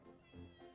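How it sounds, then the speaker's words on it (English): A cartoon kitten gives a single short, quiet meow, a soft tonal cry lasting under a second. "I'm pretty sure they're meowing because they're terrified"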